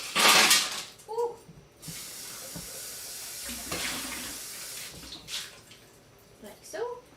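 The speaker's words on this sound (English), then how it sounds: "I'm going to rinse out our shaker" Tap water splashes while a cocktail shaker is rinsed, coming in loud bursts of running water between quieter gaps, with someone talking over it.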